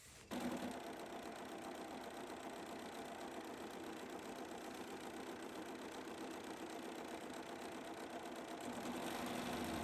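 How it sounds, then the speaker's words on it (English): An embroidery sewing machine runs steadily throughout, stitching a tack-down line into quilt batting with a continuous, even mechanical whir at close range after a brief start. "we're going to place our project batting down, and we're going to stitch the tack down stitch"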